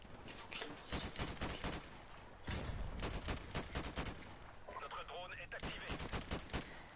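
Long-distance gunfire in Call of Duty Modern Warfare Remastered: dense bursts of rapid shots and crackling volleys fill the scene, with a brief pause midway before the firing resumes just as heavily.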